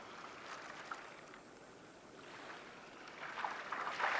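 Ocean waves roll at a distance, a faint, soft wash of surf swelling gently and building slightly louder toward the end, with no voices.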